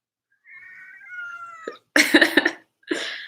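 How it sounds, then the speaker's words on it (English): A pet cat gives a long, drawn-out meow indoors, followed by a few short, harsh, cough-like bursts, close and fairly clear against a silent background. "She's my cat"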